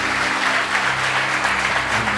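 A church congregation applauds in a continuous, dense clapping of many hands that fills the space evenly, with no voices standing out.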